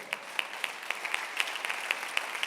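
A church congregation applauds during a sermon, scattered individual claps standing out sharply over a softer, thinner patter of hands, fairly close and without speech.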